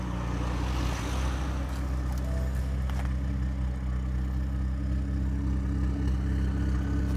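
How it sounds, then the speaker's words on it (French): A tuned BMW 135i with a stage 3 setup and stock exhaust line idles steadily nearby, its deep, even engine drone continuous throughout without any talking. "je te propose Mathieu de nous démarrer la voiture, on va voir ce que ça donne niveau sonorité"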